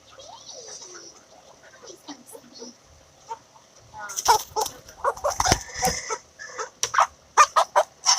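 Silkie chickens, including a hen, cluck and squawk up close, with scattered calls building into a busy burst of loud flapping and clucking while people speak.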